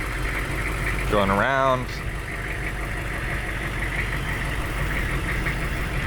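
The diesel engine of a 1999 GMC school bus idles with a low, steady rumble and slight knock. A person speaks briefly near the start, and the engine carries on alone afterward.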